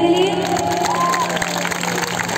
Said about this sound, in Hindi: जोरदार ताली बजाएं इनके लिए।